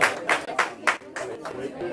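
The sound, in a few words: audience applause for Kayla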